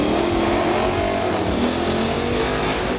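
A modified Mustang and Camaro accelerate down a quarter-mile drag strip, their engines roaring loud and steady as the revs climb in rising tones, with no talk over them.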